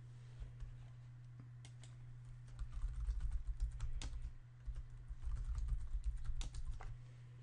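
Fingers type a password on a computer keyboard, quiet irregular clicking of keys over a low steady hum, close but faint.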